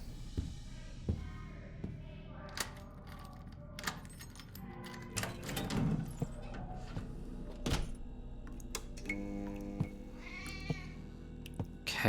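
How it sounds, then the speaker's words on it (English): In the video game The Operator, a cat meows a few times amid scattered thunks, clicks and typing-like taps in a quiet room, with each meow short and fairly faint. "Okay, we have a cat."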